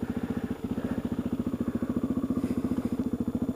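A Suzuki DRZ400 dirt bike engine idles steadily in gear up close, a fast, even putter with slight irregular wobbles, running alone without voices.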